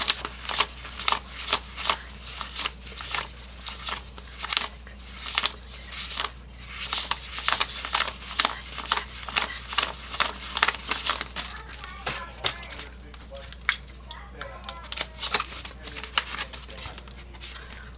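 Paper cash bills from a budget envelope are counted by hand: a long run of quick, crisp flicks and rustles, close and steady, with a few softer paper shuffles near the end.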